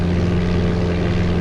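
A simulated Cessna propeller engine in Flight Simulator 95 drones on in an unbroken, loud hum with a throbbing low-end buzz. No voices sit over it.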